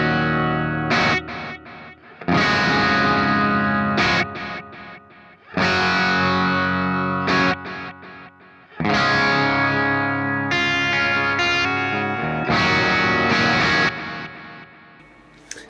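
Electric guitar played through a Mesa Boogie Mark IIC+ amp pack on a lightly driven clean channel with delay, loud chordal phrases in four bursts, each ringing out with repeating echo trails between strums.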